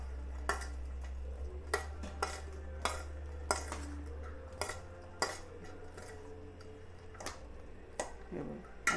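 A spoon mixes sweet corn chaat with red chilli powder in a bowl, making irregular metallic clinks and taps close by over a low background hum, with no talk.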